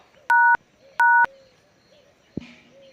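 Two clear keypad dialing tones from a telephone, each lasting about a quarter second with a short gap between, followed by a brief click; the room is otherwise quiet.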